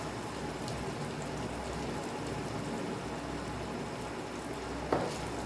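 Onions sautéing in a pan for mushroom masala, a steady, even crackling sizzle held at moderate level throughout, with one brief knock near the end.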